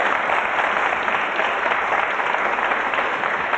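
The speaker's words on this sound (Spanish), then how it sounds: "un aplauso por lo menos" A large audience at a Spanish-language public event applauds steadily throughout, a dense, even wash of many hands clapping at close range with no break.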